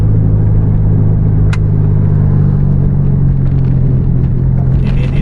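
Steady, heavy low rumble of a JRG bus engine while driving through curves in Aceh, loud and continuous from inside, with a brief sharp click and faint rattles.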